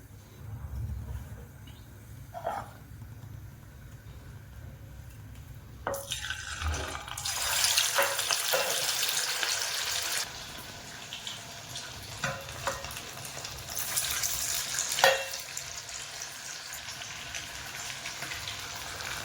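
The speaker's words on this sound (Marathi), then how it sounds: "आता मी याला तेलात सोडणार आहे" A hand-patted vada for a fasting meal goes into hot oil, first with a few quiet knocks, then a sudden burst of loud bubbling sizzle that keeps frying steadily up close.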